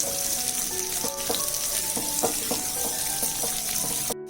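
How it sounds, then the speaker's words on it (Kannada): Shredded cabbage and spring onion are sautéed in a pan for egg fried noodles, giving a continuous close sizzle with rhythmic clinks and scrapes of stirring throughout. "ಒಂದು ಅರ್ಧ ಕಪ್ಪು ಉದ್ದಕ್ಕೆ ಹೆಚ್ಕೊಂಡಿರೋದು ಕ್ಯಾಬೇಜು, ಎಲೆಕೋಸು, ಉದ್ದಕ್ಕೆ ಕಟ್ ಮಾಡ್ಕೊಂಡಿರೋದು ಈರುಳ್ಳಿ ಹೂವು, ಸ್ಪ್ರಿಂಗ್ ಆನಿಯನು, ಅದೆಲ್ಲ 1 ನಿಮಿಷ ಬಾಡಿಸ್ಕೋಬೇಕು"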